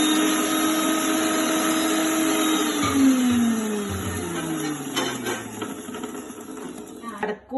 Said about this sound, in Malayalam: അപ്പോൾ ആടെ മിക്സിയിൽ അടിക്കുന്നുണ്ട്